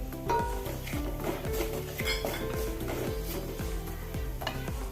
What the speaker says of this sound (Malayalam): കായപ്പൊടി ഇട്ട് നല്ലപോലെ ഒന്ന് ഇളക്കി കൊടുത്ത്